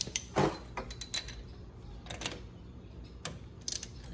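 Wrench working loose the spark plug on a Venom x22 125cc motorcycle, a quiet run of ratcheting clicks and metallic ticks up close, with uneven spacing and no talk.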